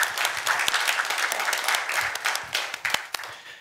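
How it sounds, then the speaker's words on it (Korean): Church congregation applauding together, a dense steady wash of many hands clapping at moderate distance for several seconds, tapering slightly at the end, with no voices over it. "하나님께 영광의 박수 올려드리겠습니다."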